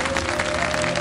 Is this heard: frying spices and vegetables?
no